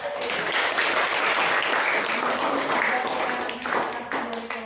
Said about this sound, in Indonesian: tepuk tangan ya untuk kelompok